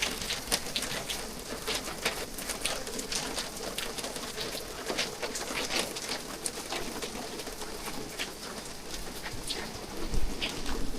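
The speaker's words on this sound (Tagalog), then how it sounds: "Ulan pa rin." Steady rain falls and patters on surfaces outdoors, a continuous moderate hiss with scattered drop ticks throughout and no one talking.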